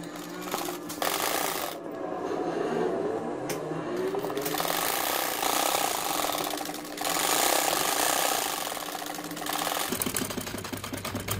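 A sewing machine stitches the long and short sides of a double bed sheet, a close, steady mechanical chatter running almost continuously with brief slowdowns.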